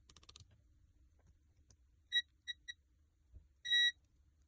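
A multimeter in continuity mode gives short electronic beeps while its probes check the pins of a Dualshock 2 controller connector against the board, with a few brief chirps and one longer tone in an otherwise quiet room.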